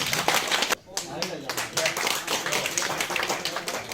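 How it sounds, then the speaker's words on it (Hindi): An audience at a political party membership meeting claps in a busy, uneven burst, moderately loud with a brief dip near the start, with a voice mixed in. "सभी लोग जोरदार तालियां बजाएंगे।"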